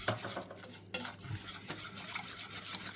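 Spoon stirring a flour and starch mixture in a pot for a light grape-molasses pudding, close scraping and swishing strokes repeating steadily for the whole stretch with no voice.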